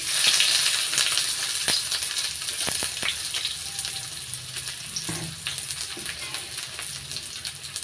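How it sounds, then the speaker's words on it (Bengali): Chopped onions frying in a pan with dried chillies, a bright, continuous close sizzle and crackle with scattered pops and occasional stirring scrapes, gradually settling slightly quieter. "পেঁয়াজ কুচিটা একটু লালচে করে ভেজে নেব।"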